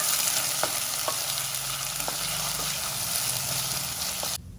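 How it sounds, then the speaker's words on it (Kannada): Steady, close sizzling of fresh field beans frying in oil, with occasional stirring clicks, continuing evenly until it cuts off near the end. "ಹಸಿಯವರೆ ಎಣ್ಣೆಲಿ ಫ್ರೈ ಆಗೋಷ್ಟಲ್ಲಿ"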